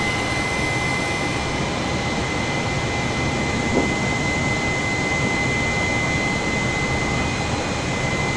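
A Super Air Jet airliner's jet engines in Microsoft Flight Simulator give a steady, unbroken cabin drone of broadband roar with faint sustained whine tones, constant in loudness throughout, with no voices.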